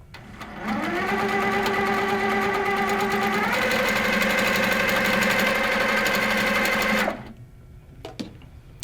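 A sewing machine stitches feather quilting patterns in one steady run of about six seconds, its motor hum rising slightly in pitch partway through, then stopping abruptly before a few faint clicks.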